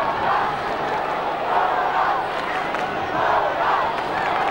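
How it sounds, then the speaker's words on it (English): Crowd roaring at a 1998 Australian football match between Port Adelaide and the Western Bulldogs, a broad stadium swell of cheering that rises and falls in waves, distant and continuous. "Great crowd here tonight"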